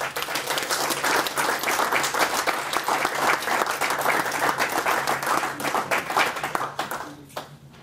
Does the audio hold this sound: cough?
no